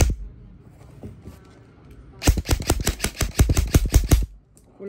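An ICS MK18 airsoft rifle fires a rapid full-auto string of about a dozen sharp, loud cracks lasting roughly two seconds, following a quieter stretch of low room noise.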